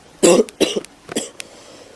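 A man has a coughing fit, three harsh coughs close to the mic in quick succession, the first loudest, trailing off into a short throat-clearing rasp.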